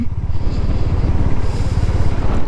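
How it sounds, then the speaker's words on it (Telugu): Motorcycles idle and rumble close by at a gathering of seventy to eighty bikes, a loud, dense, throbbing engine drone with pulsing beats. "ఇవే అనమాట బైక్స్ అన్నీ."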